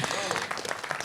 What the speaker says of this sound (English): Yes, definitely deserves another round of applause.